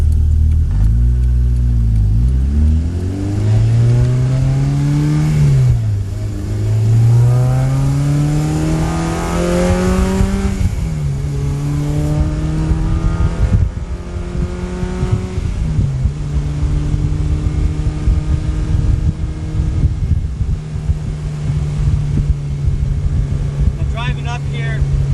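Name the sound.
Honda Integra car driving on back roads with new coilovers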